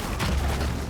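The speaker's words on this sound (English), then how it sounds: "I kind of just want to chuck a grenade in there real quick" A grenade explodes in Heroes of the Storm as Tychus's attack lands, a short, dense burst of booming thuds and crackle close and loud, heard alone.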